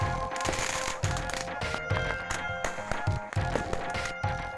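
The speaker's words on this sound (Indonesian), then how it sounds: "Saling lempar petasan terjadi di area persawahan milik warga di Situbondo, Jawa Timur." Firecrackers thrown back and forth in a brawl on a village rice field in Situbondo, East Java, bursting in rapid, dense cracks and pops, loud and continuous, over crowd noise.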